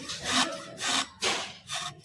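Cracked, worn CVT drive belt being bent and flexed by hand, giving four short dry scraping rubs close to the ear with brief pauses between them.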